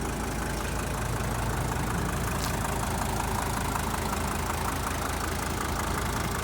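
A Mercedes-Benz W123 diesel engine idles steadily close by, a rough, even rumble with a faint clattering texture and no talking.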